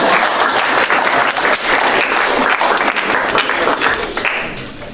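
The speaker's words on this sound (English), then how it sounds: "Everybody for a round of applause." Audience applause in a church youth gathering, steady, dense clapping from many hands filling the room for several seconds, loud and close, tapering slightly at the end.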